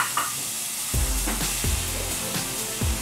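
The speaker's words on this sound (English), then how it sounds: "first, I'm going to fry my onion" Chopped onion frying in a little olive oil in a pan, a steady sizzle with a few louder stirring scrapes and bursts of crackle as the pieces are moved around.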